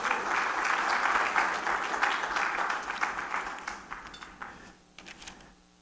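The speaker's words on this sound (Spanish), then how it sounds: "Dele palmas al Señor por la vida de Joel" A church congregation claps together during a service, dense applause that thins out into scattered individual claps and fades over a few seconds.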